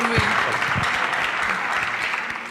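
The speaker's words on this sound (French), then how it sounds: "Est-ce que vous pouvez quand même applaudir pour elle" An audience at a college event claps steadily for a woman, a dense continuous round of applause with a few low thumps and faint voices mixed in.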